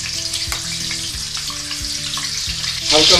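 Two eggs crackle loudly in hot oil in a wok, a dense sizzle with low tonal hum beneath and regular knocks, flaring into a brighter spatter at the end; nobody speaks.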